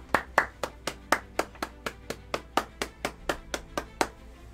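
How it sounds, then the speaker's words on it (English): About fifteen slow, evenly spaced single hand claps for Pig, a moderator at an online award show, each a crisp close clap at a steady rhythm with nothing else heard. "Round of applause for Pig."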